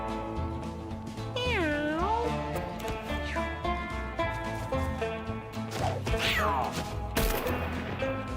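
Cartoon cat meows from the video game Mewgenics, a couple of rising and falling mewing calls over busy game music and effects, with a loud crash near the end.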